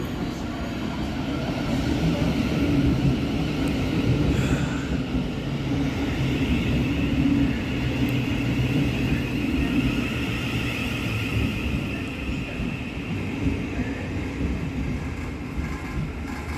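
Class 700 Govia Thameslink unit 700 142, on a Brighton to Bedford service, pulls into Preston Park station with a continuous low rumble and hum of rolling wheels and traction, steady and fairly close throughout.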